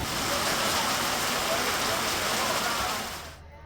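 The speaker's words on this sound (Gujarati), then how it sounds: "અહીં કેટલીક જગ્યાએ કરા સાથે વરસાદ ખાબક્યો" Steady, dense rush of heavy rain pouring down, loud and continuous, then fading out abruptly near the end.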